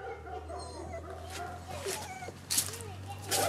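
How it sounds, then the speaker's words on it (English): Several dogs whimper, yip and bark at an outback gold-prospecting spot near Coolgardie, high whines rising and falling over a low steady hum, with a few sharper barks near the end while someone talks. "These dogs are starting to go mental."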